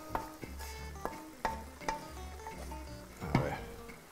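A vegetable sofrito for lamb chilindrón sizzles in a pan of oil while a utensil stirs and scrapes it, giving a steady frying hiss broken by repeated sharp clinks and knocks, close and without speech.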